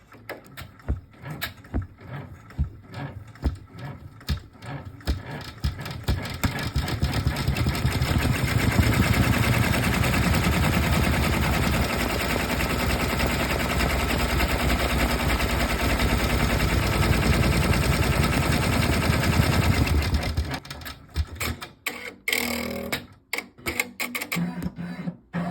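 Embroidery machine stitching a vinyl bookmark design with olefin backing, a fast mechanical rattling hum that starts in stuttering bursts, runs continuously and loudly for most of the clip, then breaks into short choppy bursts again near the end.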